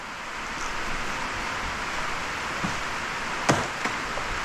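Rain drums on a metal building in a scrap shop, a dense, constant hiss and patter filling the space, with a couple of sharper knocks near the end.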